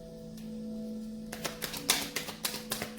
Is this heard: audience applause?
no